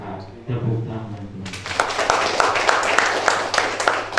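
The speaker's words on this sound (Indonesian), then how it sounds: "Tepuk tangan." A Catholic church congregation bursts into sustained applause after a voice speaks, the dense clapping from many hands filling the room and continuing steadily to the end.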